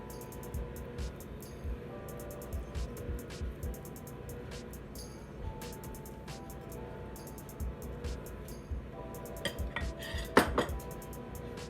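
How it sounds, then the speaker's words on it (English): A spoon scoops a tablespoon of sardine mixture for Nigerian fish rolls and spreads it out, giving light metallic clinks and scrapes against a dish with a busier clatter near the end, over a low kitchen background. "I'm just going to scoop about 1 tablespoon and spread it out."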